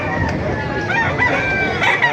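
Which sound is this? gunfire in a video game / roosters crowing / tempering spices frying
roosters crowing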